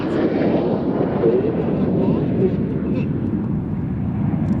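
Red Arrows jets roar overhead as they split apart at an air show, a broad, loud and steady jet rumble filling the whole few seconds with outdoor wind noise.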